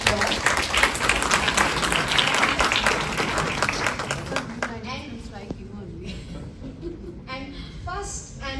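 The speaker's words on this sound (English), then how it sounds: "I think sir received a huge round of applause" An audience at an international conference inauguration on AI and natural intelligence breaks into dense applause for about four seconds, then the clapping fades as a speaker begins talking over a quiet hall.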